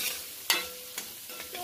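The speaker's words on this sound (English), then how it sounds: "So give it a little stir fry here" Seasoning is stir-fried in a pan, giving a soft sizzle punctuated by three or four scraping stirs of a spoon, close and brief, with no talking.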